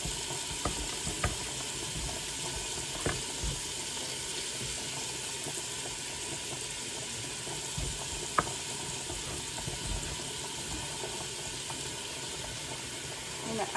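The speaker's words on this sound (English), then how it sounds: "So now I'm going to chop up my turkey. Throw that in the pot." Chopped turkey sautés in a pot, producing a steady close sizzle with scattered clicks and light scraping throughout.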